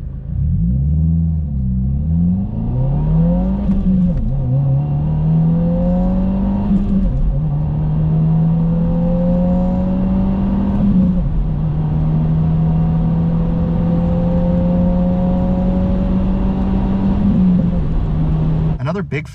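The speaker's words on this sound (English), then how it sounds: "I get a little bit more kind of noise from the turbo, from the intake." A Subaru WRX with a turbo engine pulls hard through the gears, its engine note climbing and then dropping at each shift, loud and close.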